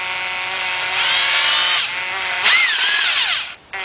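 A power ratchet whirs at close range, tightening a bolt during valve cover and spark plug work on a 2007 Ford Focus 2.0, with a loud continuous motor whine that rises in pitch and cuts off near the end.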